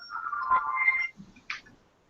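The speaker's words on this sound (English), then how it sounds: "That's my phone alarm." A phone alarm goes off, a short bright electronic ringtone melody with two bursts, clear and close in an otherwise quiet room.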